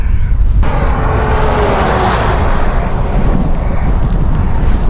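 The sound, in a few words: wind and rain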